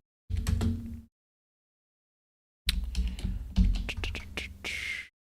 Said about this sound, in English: Very exciting text file typing.